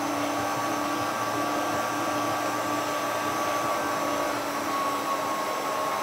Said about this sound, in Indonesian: Ini saya mau mixer sampai kalis ya